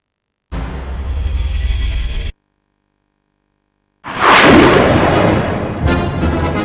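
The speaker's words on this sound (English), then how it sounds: "Destroyer gun turrets focus their sights on targets and fire" Destroyer gun turrets in a naval battle video game firing, a sustained burst of heavy cannon fire, a pause of silence, then loud booming explosions with crackling debris.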